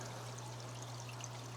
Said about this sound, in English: all this water that's filling in through here now